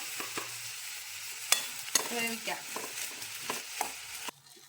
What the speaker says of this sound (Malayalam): അതിൽ നന്നായിട്ട് ഇളക്കിയിട്ട് ലേശം ഉപ്പും ചേർത്ത് നമുക്ക് വേവിക്കാം